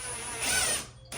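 A brief burst of a power drill whining close by as it drills into a wall stud, swelling for a moment before cutting off.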